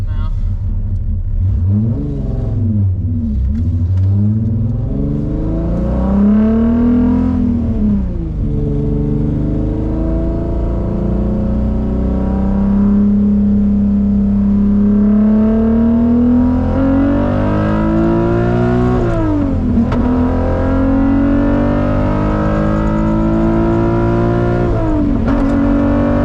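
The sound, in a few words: MK2 VR6 swap with Techtonics 288 camshafts at full pull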